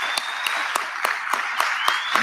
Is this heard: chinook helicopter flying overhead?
no